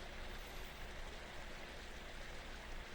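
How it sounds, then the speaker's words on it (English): A flowing river gives off a steady, even rush of water, soft and distant, unchanging across the short stretch. "Can you hear the river?"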